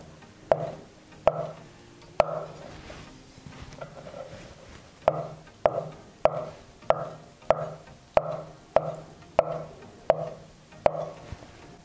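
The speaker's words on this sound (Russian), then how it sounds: "Белок нарезаем кубиком." Knife chopping boiled egg whites into cubes on a board, a steady run of crisp, close cuts with a brief pause partway through, no talking.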